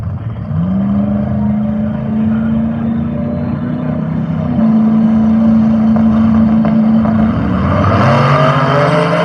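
Outlaw 8.5 small-tire radial drag cars, one nitrous and one turbo, launching down the strip with a loud sustained engine drone, steady high pitch held several seconds before shifting and rising in a new roar.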